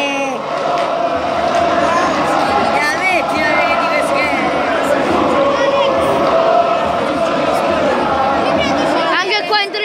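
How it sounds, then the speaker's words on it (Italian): Football fans in a stadium grandstand during an evening match, a dense crowd roar with chanting voices and shouts rising and falling continuously, loud and sustained throughout with whistles and cries scattered on top. "Anche qua in tribuna cantano."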